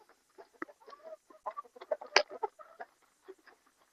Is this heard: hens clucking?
yes